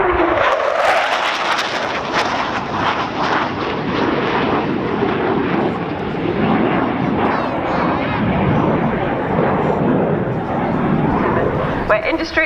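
A Hawker Hunter jet at full throttle makes a loud, sustained roar as it passes at an air show, mixed with a live commentator's voice and crowd noise.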